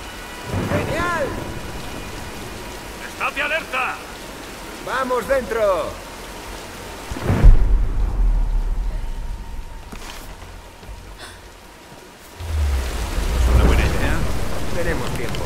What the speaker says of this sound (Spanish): ¡Espera que pase la tormenta!